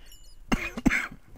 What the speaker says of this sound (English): I have this cough I can't get rid of